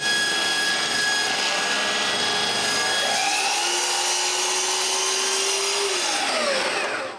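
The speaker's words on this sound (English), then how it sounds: "Put it on the CNC and cut my first test" A CNC machine cutting plywood, a loud continuous whine of the spindle with shifting pitch as the bit moves through the wood, winding down at the end.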